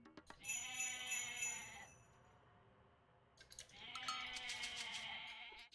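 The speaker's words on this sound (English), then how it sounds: "Look at all these goats, holy cow." Goats bleating in the strategy video game Age of Mythology, two drawn-out nasal bleats separated by a short quiet gap, fairly faint and heard alone.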